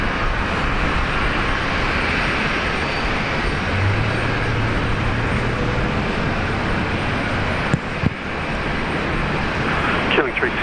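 A Philippine Airlines jet departs Brisbane Airport, a loud, continuous broadband engine roar that holds steady throughout, with a couple of faint knocks near the end.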